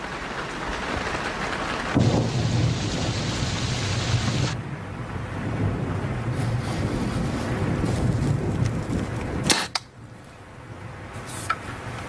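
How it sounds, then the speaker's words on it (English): Steady, heavy rain pours with a broad hiss and low rumbling, loud and continuous, then eases suddenly near the end. "Oh, I wish this rain would let up."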